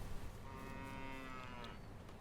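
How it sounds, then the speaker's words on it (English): Animated cows at the animal dealer in Farming Simulator 22, a single long, drawn-out moo at moderate distance over a low ambient background. "animated cows at the animal dealer, animated sheep at the dealer, animated pigs at the dealer."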